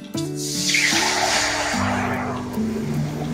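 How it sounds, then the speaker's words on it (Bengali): Water poured into a hot wok just emptied of roasted coriander, cumin and fennel seeds makes a loud, rushing hiss and splash that holds steady for a few seconds, over a faint tonal hum. "এখন কড়াইয়ে দিয়ে দিচ্ছি জল"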